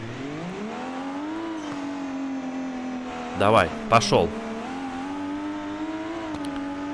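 BMW X5M E70 with its turbocharged engine in the BeamNG.drive driving game, a steady engine drone with rising pitch under continuous talk, broken by two short loud bursts midway.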